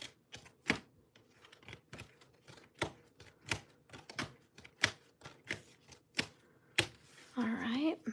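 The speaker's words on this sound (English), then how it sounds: "Let's shuffle this deck really good." Tarot cards being shuffled, with a series of sharp riffling snaps spaced about once a second, close and fairly quiet, and a brief voice near the end.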